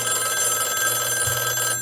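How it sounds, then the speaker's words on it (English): A telephone bell rings steadily and continuously, fairly loud and close, with a constant buzzing electronic tone throughout and no voices. "the phone started ringing again"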